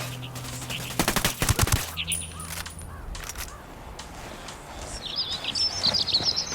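Rapid bursts of rifle fire in Ghost Recon Wildlands crack out in a tight volley near the start, followed by scattered single shots, background ambience with faint bird calls, and brief speech.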